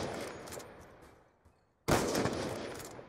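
Gunfire through a wall in a first-person shooter video game, heavy bursts fading off, a quiet gap with a faint pop, then a loud sudden barrage close by.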